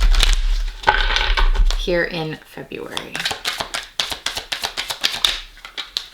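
Tarot cards are shuffled close by, first under a woman's speech and then alone as a run of quick, crisp riffling flicks.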